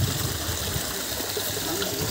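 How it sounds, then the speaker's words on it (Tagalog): Stream water flowing along a hiking trail, a steady broadband rush and trickle that stays continuous and fairly close, with no voices over it. "Umaagos dito tubig."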